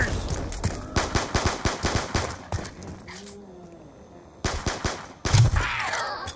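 The War Machine launcher fires in Call of Duty Black Ops 2 Zombies, a quick series of sharp bursts in clusters that breaks off into a quiet gap, then resumes with a heavy blast near the end.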